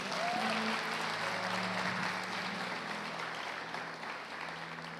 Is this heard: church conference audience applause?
yes